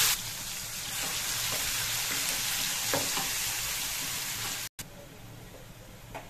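Onion gravy goes into hot oil already holding mustard seeds, cumin, chillies and mint, giving a steady loud sizzle and crackle of frying that continues throughout, with a brief break near the end.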